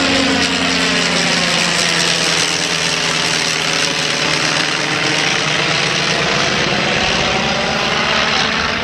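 A vintage Avro 500 propeller aircraft, first flown in 1912, passing in flight: a loud, steady engine drone whose pitch sweeps as it goes by, with no voices.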